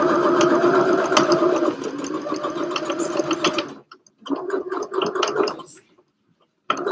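A sewing machine winds an empty bobbin for a refill, its steady whirring drone running loud and close for nearly four seconds before breaking into shorter stop-start bursts with brief silent gaps.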